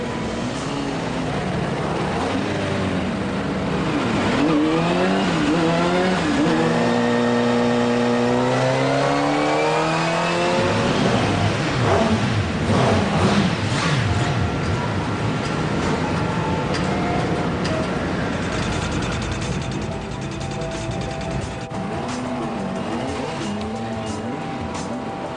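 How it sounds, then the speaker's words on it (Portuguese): A Kawasaki motorcycle engine at a factory power test starts and revs up and down repeatedly, climbing sweeps of loud mechanical roar with a whining tone, then settles to a steady running drone. "Ligam o motor pela primeira vez, aquecendo-o antes do último passo,"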